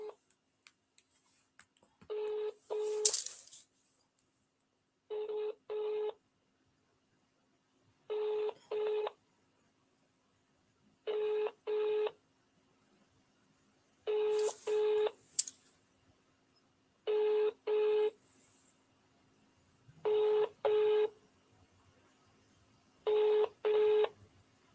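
A phone call rings out, giving a regular ringback pattern of paired tones repeating about every three seconds, clear and isolated, with a few faint clicks between rings.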